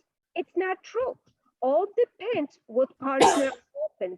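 A single loud sneeze bursts out during a bridge lesson, surrounded by a person talking in short phrases before and after.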